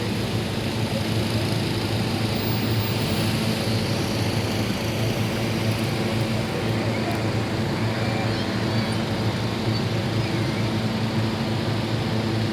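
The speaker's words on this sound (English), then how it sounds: "So I'll just let you enjoy the ambience of the fans" Inflator fans roaring steadily at a hot air balloon launch in Qatar, a loud continuous engine-like drone with broadband wind rush that holds unchanged throughout.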